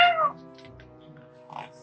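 A cat's meow in a Halloween children's story about a timid little ghost and two tiny black cats, a short high cry at the start followed by a softer second call over gentle background music.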